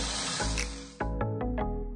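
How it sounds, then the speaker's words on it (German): Water sprays and hisses steadily over surgical instruments being rinsed, with a few sharp clinks and taps of metal as the flow shifts, close and fairly loud. "Da sind jetzt alle Instrumente, muss jetzt auch hier erstmal mit Wasser einmal abgewaschen werden."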